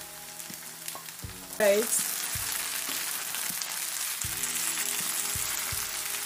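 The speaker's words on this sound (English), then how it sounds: "I'll allow it to fry for a bit, then I'll add other ingredients." Ingredients frying in oil in a pan with ginger and garlic, a steady close sizzle throughout with a louder burst of crackling as something is stirred or added, and a brief spoken word.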